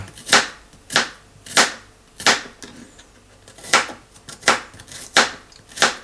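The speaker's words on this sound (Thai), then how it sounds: "อ่ะหั่นกระเทียม" A knife chops garlic repeatedly on a cutting board, about eight sharp, evenly spaced strikes, close and loud with no voices.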